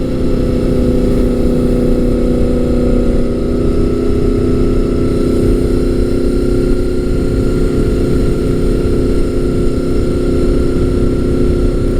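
A Gen 5 Honda VFR800 V4 motorcycle engine drones loud and steady while riding on a cold Pennsylvania road, a dense low growl with smooth harmonic tones that hold nearly constant throughout.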